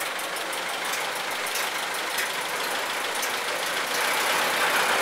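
A 1931 Ford Model A engine with a clutch problem runs steadily, giving a loud, continuous rattling rumble throughout with no voices.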